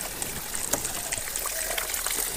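Water coming out of a farm's double filter system trickles and splashes steadily in a constant hiss, close by, with no voices.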